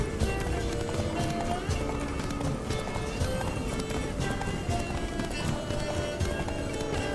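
A horse gallops in The Witcher 3 with a steady, dense clip-clop of hooves mixed into loud continuous game sound, the rhythm unbroken throughout.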